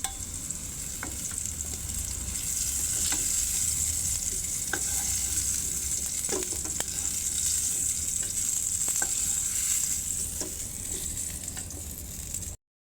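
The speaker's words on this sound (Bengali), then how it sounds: "এভাবে একে একে সব কুমড়োগুলো তেলে ভেজে নেব।" Ash gourd pieces fry in oil in a pan, making a loud, continuous close-up sizzle with scattered crackles and pops throughout.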